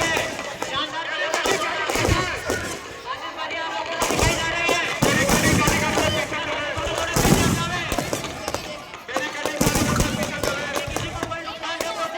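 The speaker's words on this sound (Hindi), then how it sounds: "शानदार आतिशबाजी जो आप लोगों के सामने दिखाई दे रही है।" Dussehra festival fireworks bursting continuously in dense, loud crackling volleys with sharp bangs, mixed with crowd noise and voices throughout.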